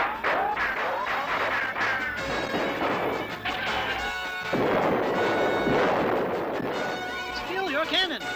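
A chaotic burst of cartoon crashes and booming cannon and gun shots from the Underdog cartoon rattles on continuously, with whistling effects and a voice shouting over the din.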